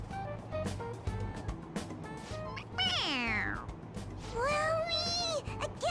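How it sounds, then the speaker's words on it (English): A toy cat in the video game Persona 5 Royal meows when pressed on its head, giving two loud, drawn-out, wavering meows. Several short taps and clicks sound under the meows. "It meows when you press on its head."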